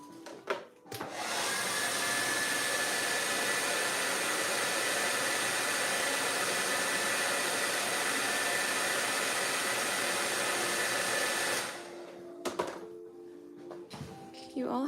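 A hair dryer blows steadily for about ten seconds to dry paint, a loud, even rushing whoosh that switches on and off abruptly, with brief handling clatter after it stops.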